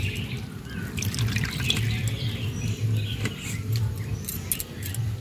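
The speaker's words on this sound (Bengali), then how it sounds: "এবার ঠান্ডা জলটা দিয়ে ধুয়ে নেব।" Cold water from a tap splashes and trickles through a strainer as cooked sweets are rinsed in a home kitchen, a steady close pattering with light drips and no speech.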